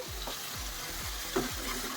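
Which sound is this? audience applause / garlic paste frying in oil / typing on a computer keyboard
garlic paste frying in oil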